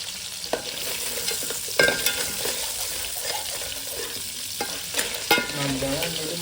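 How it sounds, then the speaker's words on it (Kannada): Crab fries in a pan in a village kitchen, giving a loud continuous sizzle close at hand, broken by occasional scrapes and knocks of stirring. "ನೋಡಿ ಫ್ರೈ ಆಗ್ತಾ ಇದೆ."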